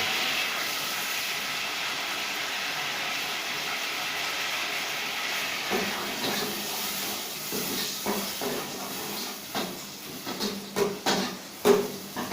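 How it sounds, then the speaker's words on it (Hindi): Chopped onions drop into hot ghee and start frying. A steady hiss fills the pan, then sharper crackles and spits rise and grow louder and more frequent toward the end. "घी हमारा गर्म हो चुका है तो अभी हम इसमें प्याज डालेंगे।"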